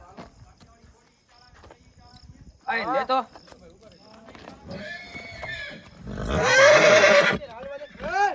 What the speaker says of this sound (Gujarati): ઘોડો નીકળી ગયો ભાઈ